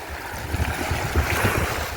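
Sea waves wash onto the sandy shore at Bolton Sands in a steady rolling surge, mixed with gusty wind noise buffeting the microphone and no voices.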